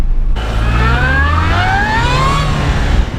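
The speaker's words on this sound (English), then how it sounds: "Oh, the supercharger whine is awesome." A modified 220 BHP Mini Cooper S at speed on Military Road, its supercharger whine climbing in steady tonal sweeps over a loud, continuous engine drone from close inside the car.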